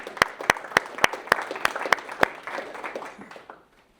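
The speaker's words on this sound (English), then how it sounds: "give yourselves a round of applause for that" An audience gives a short round of applause, with several sharp, distinct claps standing out over steady clapping that fades out after about three and a half seconds.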